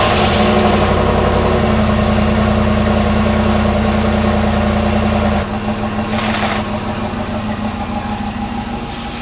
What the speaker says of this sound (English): This is not going to be a special startup,